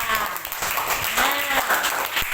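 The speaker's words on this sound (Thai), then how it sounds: "ปรบมือดังๆค่ะ" Students in a Thai classroom clap loudly during a lesson on regional dialects, a steady dense patter of hands lasting a couple of seconds, with a voice and some tonal sound faintly underneath.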